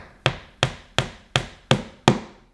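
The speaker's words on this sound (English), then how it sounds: "If you can't push them in, you could just use a little hammer, but listen for the sound change." A wooden dowel is tapped into a monster character building kit with a small hammer, giving six sharp, evenly spaced wooden knocks with short decaying tails, close and clear with nothing else around them.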